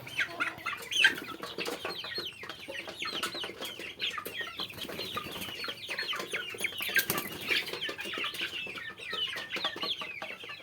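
Many chickens clucking and squawking together, a busy continuous flock chorus with occasional wing flaps, fairly close.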